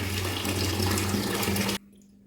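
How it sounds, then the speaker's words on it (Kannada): After its filter is cleaned, a tap gushes at full flow, a loud close steady rush of water that cuts off abruptly near the end, leaving a faint hum. "ಈಗ ಫುಲ್ಲು ಸ್ಪೀಡಲ್ಲಿ ನೀರು ಬರ್ತಾ ಇದೆ."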